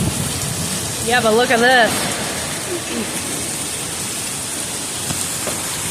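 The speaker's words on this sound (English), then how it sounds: "Is the rain starting to circle?" Steady heavy rain pours throughout a thunderstorm, a dense broadband wash that stays fairly constant, with voices talking briefly over it in the first seconds.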